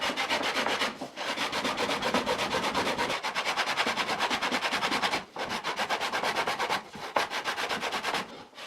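Continuous rhythmic scraping of a wooden frame rubbed by hand against the sandpaper of an unplugged drum sander, a close, steady back-and-forth rasp with a few brief pauses.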